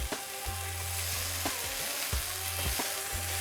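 Carrot halwa frying in 100 grams of ghee, a close steady sizzle broken by regular spatula scrapes and knocks against the pan every half second or so.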